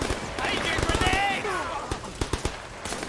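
Gunfire in the Sleeping Dogs video game, a rapid burst of sharp shots early on followed by scattered single cracks, with someone talking over much of it.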